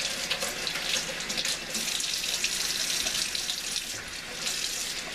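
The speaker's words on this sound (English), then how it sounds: "I need to actually still wash these carrots" A kitchen tap runs steadily into a sink while fresh, still-dirty farmer's market carrots are washed under it, a close, continuous splashing rush with slight shifts in flow.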